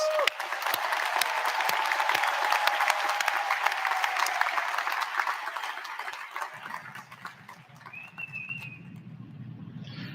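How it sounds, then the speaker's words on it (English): Graduates at a University of Scranton commencement ceremony receive a sustained round of applause from the audience, many hands clapping steadily for several seconds before fading, followed by a few quieter sounds and a brief tone. "Let's give them one more round of applause"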